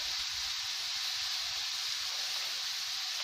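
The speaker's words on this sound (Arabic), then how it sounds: "ديال الزبدة، غنخليوها حتى تدوب، غادي تدوب لينا هاد 40 غرام ديال الزبدة" Forty grams of butter melting in a hot pan for soufflé crêpes, giving a steady, even sizzling hiss that goes on without a break, with soft crackles underneath.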